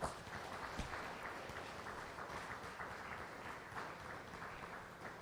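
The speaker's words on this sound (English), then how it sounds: "Let's give them a round of applause, all three of them." An audience at a live leadership talk gives a steady round of applause, sustained and evenly spread, heard quietly as if from a distance in a hall.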